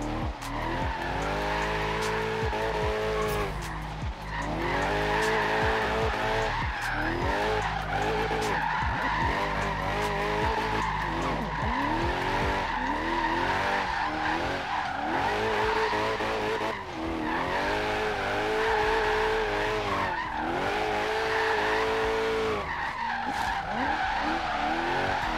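A low-powered car drifts through a drift zone in Forza Horizon 3, its tires squealing almost continuously over a revving engine. The pitch rises and falls with each slide across roughly 25 seconds, with no voices.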